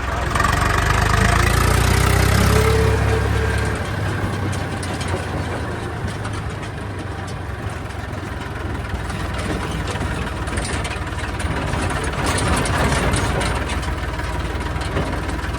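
A newer-model Eicher tractor idles with a steady, close, low diesel rumble and throb that runs unbroken throughout, slightly heavier in the opening seconds.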